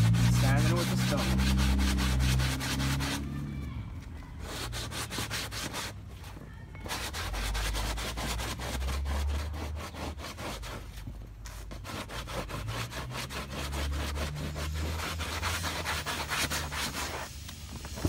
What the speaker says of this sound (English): all I'm doing is just grabbing it, stretching it, and sanding it with the stone